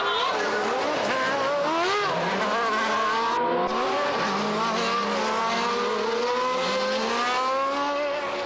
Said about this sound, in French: Le départ du Grand Prix d'Italie est chaud.